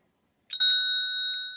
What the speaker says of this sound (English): I have a bell. Oh, I found it. Ding. Here's the bell.